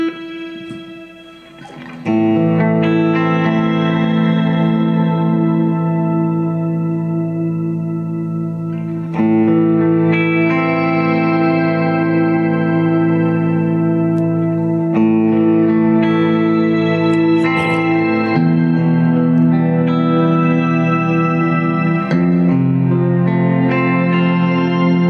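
An electric guitar rings through an effects unit, its chords and notes smeared by reverb, echo and chorus, sustained and loud with no talking.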